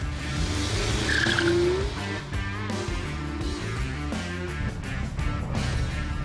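A 2015–2016 Mazda MX-5 ND roadster pulls away, its engine note loud and steady throughout, with a brief rising tone as it revs up early on.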